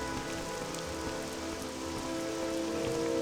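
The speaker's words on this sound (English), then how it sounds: "how could I turn down a chance to walk in the rain?" Steady rain pattering on surfaces in the video game The Elder Scrolls III: Morrowind, a constant dense hiss with no breaks, loud and even throughout with no voices.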